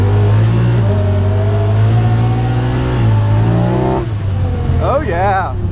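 A 2022 Pioneer side-by-side accelerates in two-wheel drive high range, manual mode. The engine is loud and close, with a steady drone that climbs through rising and shifting pitch changes as it picks up speed.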